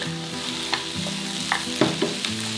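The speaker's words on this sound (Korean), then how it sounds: "소스를 넣으시고 오징어랑 한번 섞어주세요. 약간 빨리 볶으셔야 돼요, 이거는." Squid stir-fried quickly in a spicy sauce in a pan gives a steady loud sizzle, broken by the scrape and clatter of a utensil tossing the pieces.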